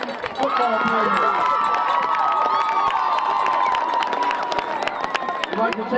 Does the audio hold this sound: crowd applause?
yes